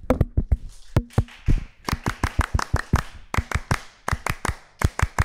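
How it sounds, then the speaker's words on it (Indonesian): A group performs the Pramuka scout clap, a patterned run of sharp hand claps in quick bursts with short pauses between sets, crisp and close with no talking. "Tepuk pramuka 2 kali."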